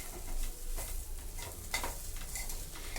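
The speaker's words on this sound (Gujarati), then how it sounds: "હવે આને આપણે આવી રીતે હલાવી દઈશું" Gram flour and fenugreek leaves are stirred in a pan, giving a soft, close, continuous scraping and stirring sound over a low sizzle, with no voice.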